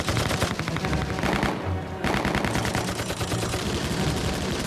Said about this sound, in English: heavy machine gun fire broke out from somewhere behind the seawall